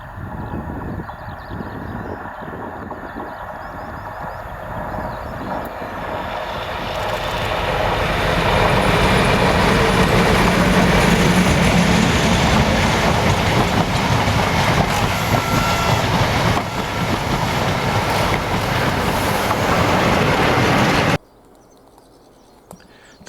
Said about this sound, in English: 56051 Survival, which is seen leaving Foley Park Tunnel as she heads the ScotRail set